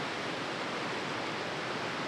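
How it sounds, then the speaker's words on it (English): Small waterfall on a trout stream pouring into a pool during a rainy spring outing, a steady broadband rush of falling water filling the whole moment at an even level with no voices. "Significant waterfall."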